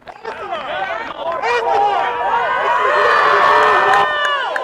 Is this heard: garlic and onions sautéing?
no